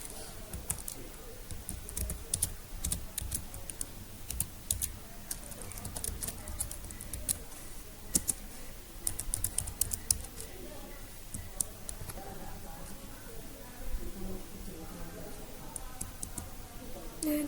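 Rapid clicking on a computer keyboard as a username and password are entered, with keystrokes pattering irregularly and close, bursts of faster typing in the first half and sparser taps later, over a low background hum.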